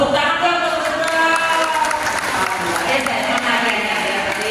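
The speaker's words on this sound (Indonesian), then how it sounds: "Tepuk tangan dong untuk saudara." Audience applause at a mosque gathering for orphans, clapping from a crowd mixed with voices and murmuring, fairly loud and continuous.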